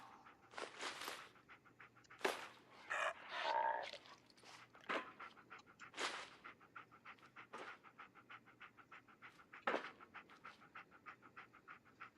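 Dog panting in the Fallout 4 video game, quick rhythmic breaths in short bursts separated by pauses, faint and close, with no other sound over it.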